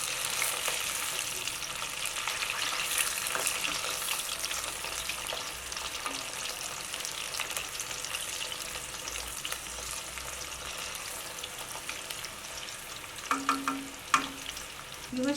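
Potato sticks for French fries bubbling in hot oil in an uncrowded pan, a continuous dense sizzle with a few light clinks of a utensil near the end.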